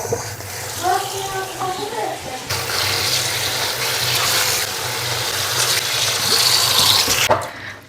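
Tap water runs steadily over greens being washed in a sink, a loud continuous splashing rush, with a voice speaking briefly near the start before the flow strengthens.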